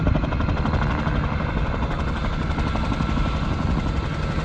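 A Bell 47 helicopter flying at the Parkes airshow fills the air with a loud, continuous rhythmic rotor thudding over a dense engine roar, steady throughout.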